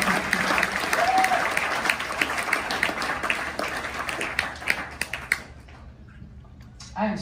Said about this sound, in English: So applause for you guys.